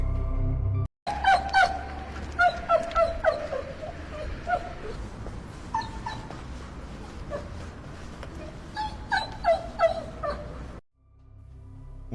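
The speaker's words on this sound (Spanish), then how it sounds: "Unos ladridos tristes," A sad dog whimpering and giving short high yips and barks outside an apartment door, in repeated bursts close by, with a brief silence near the start and a muffled background at the end.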